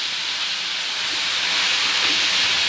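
Onion with ginger garlic paste frying in a pan while cooking mutton dabba gosht, giving a steady, loud, even sizzling hiss throughout with no talking.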